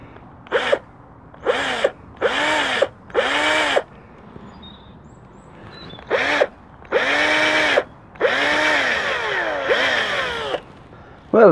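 A power drill bores a hole into an elm branch, running in a series of short, close revving bursts that give way to longer, steadier runs with brief pauses between them.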